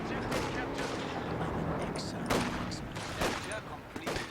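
Rifle shots crack out in a Company of Heroes 2 battle amid a dense wash of game combat noise and distant gunfire, with a commentator talking over it.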